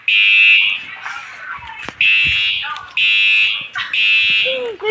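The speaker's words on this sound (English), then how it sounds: "Fire alarm! I hate fire alarms." A school fire alarm sounds in loud, piercing electronic bursts of about a second each, repeating with brief gaps, while voices talk and call out between and over the blasts.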